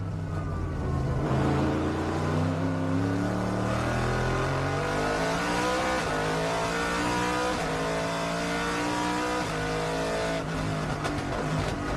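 Onboard a V8 race car in an FIA GT1 race at Beijing, the engine climbs and drops through gears in a loud, continuous roar with rising harmonic sweeps, close and alone throughout.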